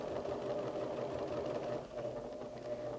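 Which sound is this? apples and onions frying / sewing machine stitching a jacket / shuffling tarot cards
sewing machine stitching a jacket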